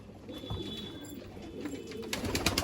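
Rampuri pigeons and Rampuri–Sialkoti crosses in a loft, giving soft cooing calls against a busy background with a few brighter chirps and rustles toward the end.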